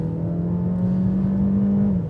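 Small engine of a 2025 Mercedes-Benz GLB accelerating from inside the cabin, a steady, moderately loud drone that rises slightly in pitch, then eases near the end.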